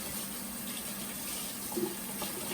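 Lukewarm water runs from a sink tap over a brass instrument valve being rinsed, a steady close hiss of flowing water with a faint splash partway through.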